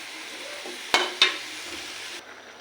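Hard vegetables for chop suey sizzle as they are sautéed in a pan, with a steady frying hiss and two sharp utensil clanks against the pan.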